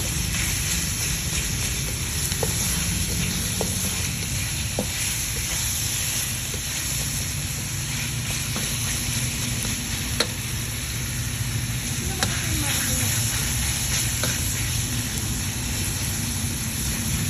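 Food frying in a pan until browned at home lunch cooking, a steady close sizzle with occasional stirring scrapes and clicks, no talking.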